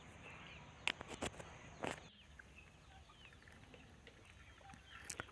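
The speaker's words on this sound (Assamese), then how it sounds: "লোকেল মুৰ্গী, কড়কনাথ, চীনা মুৰ্গী আৰু টাৰ্কিৰ লগতে এনেকৈ 160টা মান আছে" Local chickens, including Kadaknath and Chinese breeds, cluck faintly in a poultry shed in cold weather, a few short clucks and calls scattered over a quiet background.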